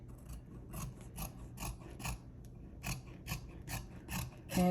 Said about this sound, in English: So I am going to just cut at the armpit